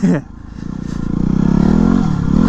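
A Ducati XDiavel motorcycle rides along an urban route, its engine giving a steady, loud drone that builds slightly. A rider talks over it throughout.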